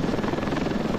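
Ravenfield helicopter with its rotor beating in a fast, even pulse, loud and close over a constant engine roar, alone without talking.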